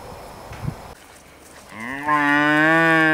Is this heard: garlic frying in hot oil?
no